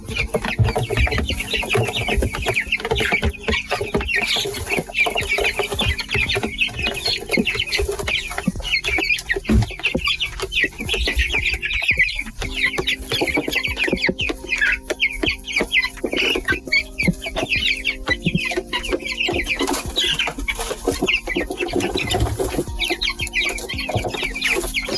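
A flock of chickens clucks continuously and busily while eating mealworms, silkworms and black soldier flies, a dense chorus of close, overlapping clucks with no speech.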